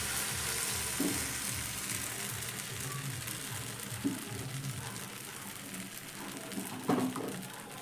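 Batter spread in a medium-hot pan with no oil sizzles softly and steadily, with a few faint scraping or stirring clicks and no talking.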